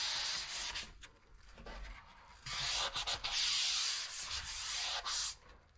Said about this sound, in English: if I'm sanding an edge, I like to sort of just press on that edge of the sanding sponge